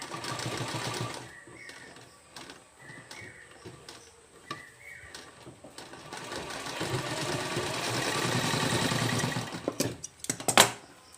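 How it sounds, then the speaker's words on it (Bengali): Sewing machine stitching a hook-and-eye closure in place, running in several short bursts of steady mechanical whirring that build to a longer continuous run, with brief clicks and pauses between. "ঠিক যেখানে হুকের ঘর আছে আস্তে আস্তে আপনাদেরকে সেলাইটিকে দিতে হবে"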